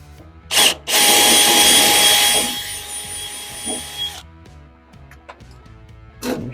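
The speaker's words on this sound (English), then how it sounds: "And let's try and drill it out once again." A power drill whirs loudly in a sustained burst of about three seconds after a short trigger blip, drilling out a screw on a Jeep JK fender flare, followed by quieter clicks and handling noises.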